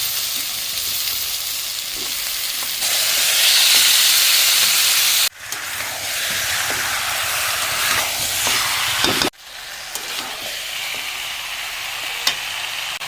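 Chicken pieces hit hot fried spice paste with salt and turmeric for a chui jhal chicken curry, giving a loud, continuous sizzle and hiss that cuts off sharply twice as it is stirred.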